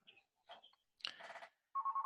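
A phone call ringing through an AWS contact centre setup, heard as short electronic ring tones and a repeating pulsed ringback beep, fairly quiet with silent gaps between bursts.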